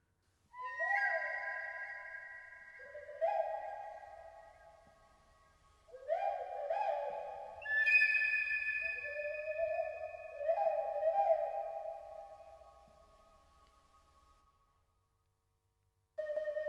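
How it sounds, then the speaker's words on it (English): Bird-like calls open the track, clear whistled phrases with sliding tones in several overlapping bursts, set against near silence. "I really, really like that sound. Birds."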